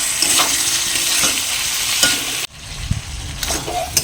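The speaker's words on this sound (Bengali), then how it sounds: "আবারও মিডিয়াম ফ্লেমে 4-5 মিনিট কষিয়ে নেব।" Chicken with banana flower, ginger paste and chopped tomato sizzles over a medium flame while a spoon stirs it, with steady frying hiss, scraping strokes against the pan and a brief clatter midway.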